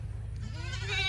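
A goat gives a single close, loud bleat at a farmstead fence during morning feeding chores. The bleat wavers and rises toward its end, with no talking.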